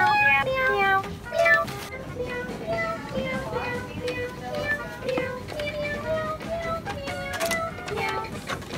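A toy gives out a string of electronic meows in short, pitched bursts, one after another, fairly close and continuous.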